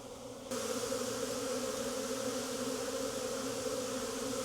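A honey bee swarm at a hive on a cool winter day, buzzing and fanning in a dense, continuous drone that rises suddenly in loudness and then holds steady close by, without speech.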